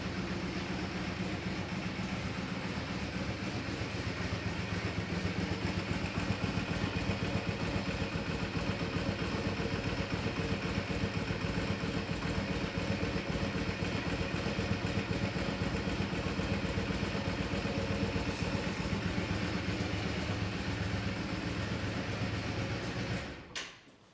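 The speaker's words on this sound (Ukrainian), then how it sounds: "от як повинен працювати двигун" A Yamaha Drag Star 400 Classic motorcycle engine idles steadily with a continuous low rumble and rattling, holding an even level for a long stretch before cutting off abruptly at the end.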